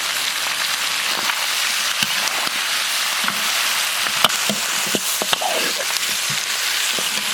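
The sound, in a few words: stir-frying peppers, onion, tofu and potato slices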